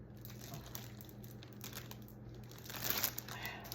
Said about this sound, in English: I just put it in the cellophane bags here.